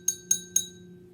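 A drinking glass filled with water is struck three times in an even rhythm, each tap giving a bright, pitched ring that decays quickly, close and clear over a faint low hum.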